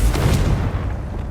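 Confringo fire spell blasting in Hogwarts Legacy, a deep rumbling boom that bursts loud at the start and rolls on as a dull, fading roar with no voices over it.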